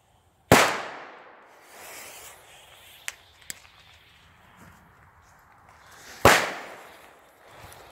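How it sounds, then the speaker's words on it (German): Weco E-Böller firecrackers explode outdoors with two sharp, loud bangs about six seconds apart, each followed by a short decaying echo, with faint rustling and small clicks between them. "E-Böller von Weco."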